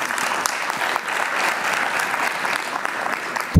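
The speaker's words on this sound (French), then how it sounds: "Je vous demanderai de l'applaudir, merci." A room full of people at a trade union rally applauds steadily, a dense even patter of clapping that continues throughout.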